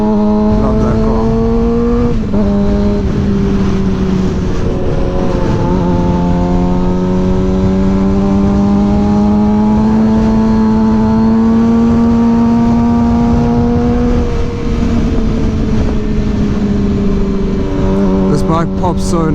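A new Suzuki GSX-R 600 motorcycle engine revs loud and close, its pitch rising and falling steadily for nearly twenty seconds with a few throttle blips.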